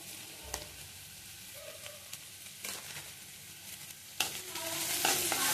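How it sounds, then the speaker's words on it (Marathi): Chili and spices stirred and frying in a pan for pav bhaji, a steady sizzle with scraping stir strokes, a louder clatter near the end. "हलवून घेऊयात मस्त."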